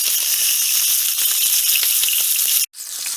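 Sausage for Cajun dirty rice fries crispy in a pan over medium heat, a steady close sizzle with small pops and crackles throughout, cutting out briefly near the end.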